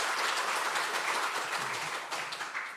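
A church congregation claps during a Sunday worship service, a broad, sustained wash of many hands that stays even and fairly loud before thinning slightly near the end.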